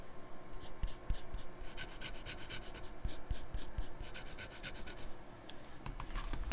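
Close, scratchy rasp of a Jinhao 80 fountain pen nib writing on paper, short strokes coming in quick irregular bursts with small ticks as the pen lifts and lands again.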